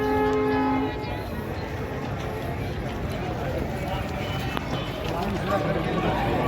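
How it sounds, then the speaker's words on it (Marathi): A train rumbles steadily through Beed railway station with rhythmic clatter and a brief horn tone at the start, with voices of a crowd mixed underneath. "तर ही ट्रेन चालली आहे पुढे"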